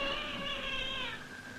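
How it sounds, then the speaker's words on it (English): A cat meows insistently to be let in, one long drawn-out wavering meow that trails off, fairly close and alone without speech. "He's meowing to be let in."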